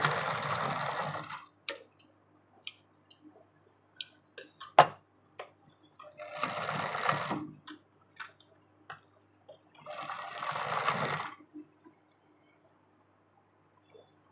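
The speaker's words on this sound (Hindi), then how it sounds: "इस तरीके से हम इस पर कच्ची सिलाई लगा लेंगे" A sewing machine runs long basting stitches through blouse fabric in three separate bursts of about a second and a half each. Short ticks and clicks fall in the quiet gaps between the runs.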